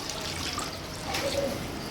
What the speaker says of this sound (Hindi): तो अब हम इसमें डालेंगे पानी।